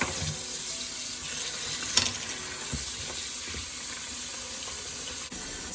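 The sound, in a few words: washing king oyster mushrooms under running tap water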